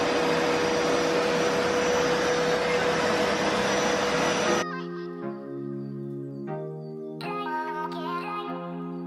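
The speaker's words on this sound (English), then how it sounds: "we've been kindly donated one of the deep suction power deep carpet cleaners from Rug Doctor" A Rug Doctor deep suction carpet cleaner runs with a loud, steady motor whine for several seconds, then cuts off, leaving quieter tonal chimes and hum.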